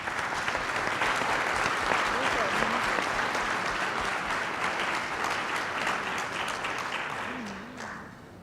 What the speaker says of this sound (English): a big applause for them and all the other high-level participants